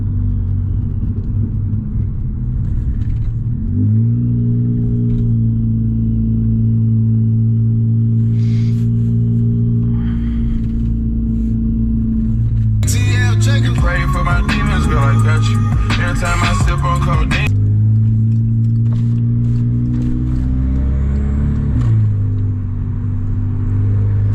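A Volkswagen Scirocco engine rumbles steadily with rising revs, and a burst of crackling exhaust pops and bangs stands out midway, all heard close from inside the car without talk.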